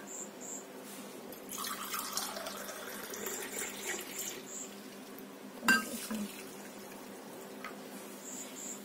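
Water poured from a tap or jug over chicory seeds to soak them, a soft splashing trickle with a clink of a vessel partway through, fairly quiet and close.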